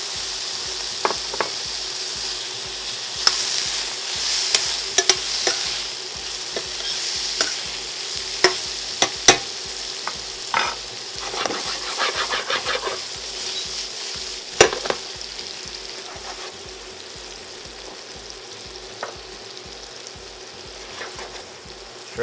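Butter sizzles and crackles steadily in a hot pan, with frequent sharp pops and spits throughout. It is loud and close, with no voices.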